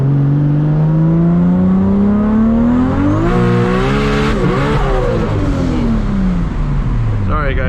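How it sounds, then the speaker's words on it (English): A 1000+ hp Toyota Supra MK4 accelerating hard in first gear on a new gear setup, its loud engine note climbing steadily in pitch as it revs up close by, then dropping off near the end. "Let's see where the power comes in on the first gear."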